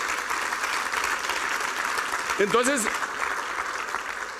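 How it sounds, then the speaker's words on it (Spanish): Congregation applauding in a church, a steady wash of clapping filling the whole stretch, with a voice briefly speaking over it midway. "Dele un aplauso al Rey bendito."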